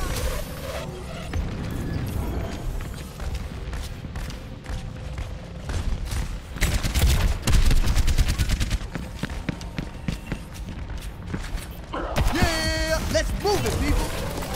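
Competitive Overwatch match with sustained rapid gunfire and bursts of shots, dense and loud throughout, mixed with thuds, game effects and a brief tonal ability sound near the end.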